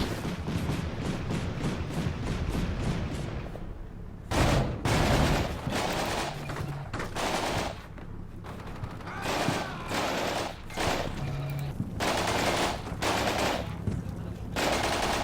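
Gunfire in the war game Combat Mission Shock Force 2, set in Syria: rapid machine-gun rattles open the clip, then heavier scattered shots and bursts follow in an uneven, loud barrage.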